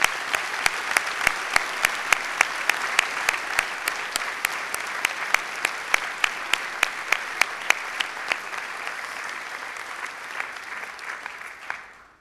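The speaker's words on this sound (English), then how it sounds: "And I'd like to give you another round of applause." Graduation ceremony crowd applauding the new graduates, a dense, sustained ovation with a sharp, regular nearby clap cutting through roughly every third of a second, tapering off at the very end.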